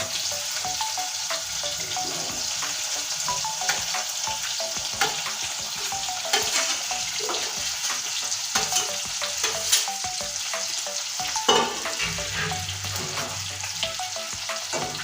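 Potatoes, green chillies and spices fry in a pan for a potato matar dal, a continuous crackling sizzle with frequent scraping and clattering stirs throughout, close and fairly even in level.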